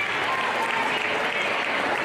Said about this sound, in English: Crowd clapping for her